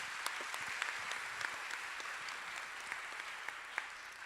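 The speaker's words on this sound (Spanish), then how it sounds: "Les pido, por favor, un fuerte aplauso." Audience applause at an academic communications congress panel for Delia Crovi, a soft, steady patter of many hands clapping at a distance, continuous for several seconds.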